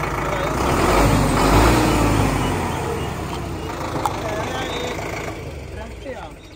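A modified non-turbo 6049 tractor engine revs in neutral, a loud, close diesel roar that swells and then eases back to a steady rumble, heard alone without talk.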